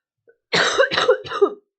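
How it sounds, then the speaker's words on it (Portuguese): Three quick, forceful coughs right up close, preceded by a faint intake of breath, then silence. "Eu fiquei emocionada e tossi."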